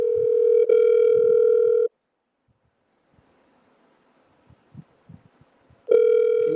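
A telephone dial tone sounds while a call is being placed, a steady loud tone that stops, leaves a quiet stretch with faint knocks, then returns.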